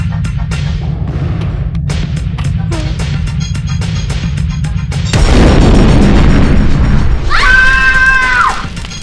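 A bomb blast in the video game GTA 5 Online: a sudden loud boom with a broad, roaring rumble that sustains for a few seconds over a busy game background, followed by rising siren-like tones.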